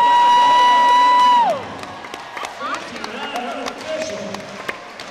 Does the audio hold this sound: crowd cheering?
yes